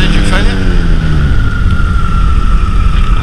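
Flexwing microlight engine throttling back for a simulated engine failure, a loud droning hum whose pitch slides down as power drops, with wind rush and a voice speaking over it in the open cockpit.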